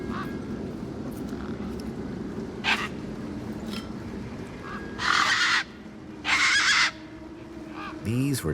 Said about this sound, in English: These were tough desert birds. Waving a crowbar around wouldn't faze them.